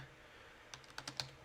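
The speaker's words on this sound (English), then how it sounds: "So in terms of welding, we'll just type in" A few quiet keystrokes on a computer keyboard, several light taps clustered near the end of a short stretch of low room hiss.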